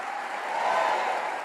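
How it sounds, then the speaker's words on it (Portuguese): Steady wash of congregation applause in a church service, continuous and fairly even across the short stretch, with no voices standing out. "te celebramos com a salva de palmas"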